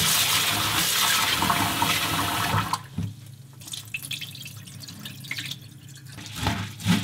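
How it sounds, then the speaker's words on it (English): Mung beans and rice are washed in a bowl with a strainer: water pours steadily at first, then gives way to quieter splashing, dripping and sloshing as the grains are stirred. "Let's wash this and soak in cold water."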